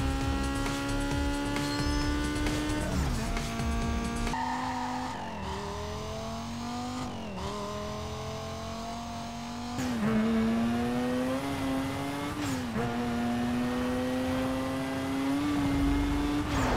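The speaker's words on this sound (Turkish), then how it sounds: "Bu oyundaki araba seslerini de ayrı bir takdir ettim. Motor sesleri ve ses efektleri tertemiz." Steady high-pitched car engine whine in the video game Need for Speed Most Wanted, rising and falling as gears shift, with brief tire squeals; loud and continuous, no talking.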